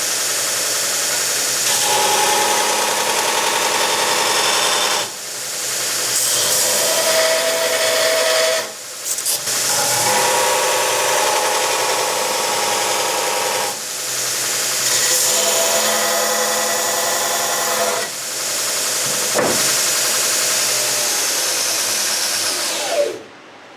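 A TW-90 knife-making belt grinder runs loud and close with a continuous abrasive roaring hiss, broken by a few brief dips where the tone drops before picking back up.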